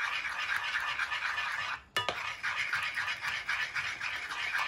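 Chocolate pieces being stirred into warm melted butter, a steady scraping and swishing of a utensil against a bowl, close and continuous with a brief pause midway.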